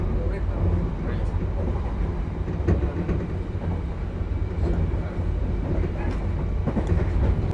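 Train passing straight through Pasir Bungur station in Indonesia, heard from on board as a steady low rumble with faint clicking wheels, continuous and fairly loud, while someone talks over it.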